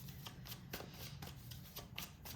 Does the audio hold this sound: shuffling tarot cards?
yes